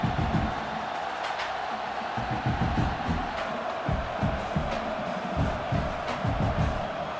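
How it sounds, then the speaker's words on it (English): A stadium crowd at a football game roars steadily throughout with a sustained wash of cheering and whoops, loud and continuous as the kicker lines up for a field goal try. "This crowd trying to do its part to get inside the kicker's head"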